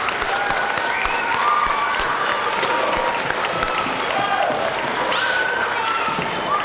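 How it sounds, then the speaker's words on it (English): Parents applauding their children at a third grade orchestra concert in a school setting, continuous loud clapping from a crowd with a few cheers mixed in. "I would like to have you do a round of applause for your wonderful children."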